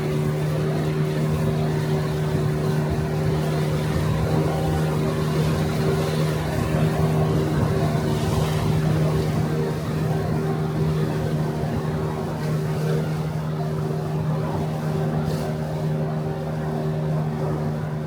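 Continuous engine rumble from a tour boat on the river near the North Korean border, close and loud with a constant hum and water noise, no speech.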